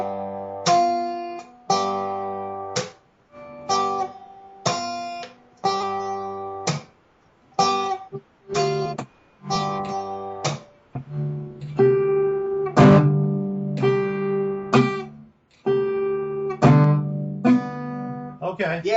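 Guitar played in a pinch-and-slash pattern, plucked bass-and-treble pinches alternating with muted percussive slash strums, a steady repeating rhythm with ringing chords toward the end, close and alone.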